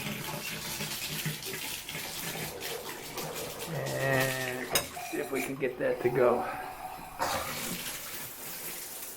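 Hot water runs steadily from a shower into a bathtub, a continuous close splashing hiss that swells midway, with a person talking over it.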